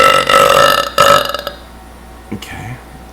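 A loud burp erupts close to the mic, a rumbling belch lasting about a second and a half, followed by a couple of smaller gulping sounds and brief voices.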